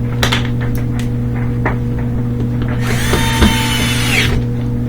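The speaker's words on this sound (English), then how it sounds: "Put in those screws." Power drill driving screws into a Samsung washer door, a steady close motor hum with clicks, then a rising whine as a screw runs in near the end.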